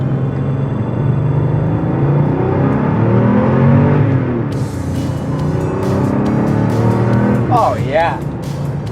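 A Porsche 964 911 pulls away in first gear from inside the cabin, its engine a steady, rising mid-pitched drone that holds loud and close, with a few sharp clicks and a short voice near the end.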